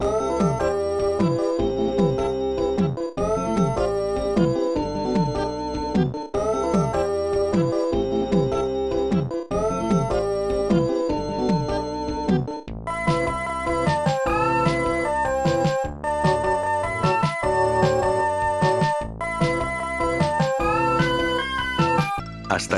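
Chiptune background music from a poorly regarded Super Nintendo game, with a looping bass line and bright synthesized melody lines that grow busier and higher partway through, playing continuously without voices.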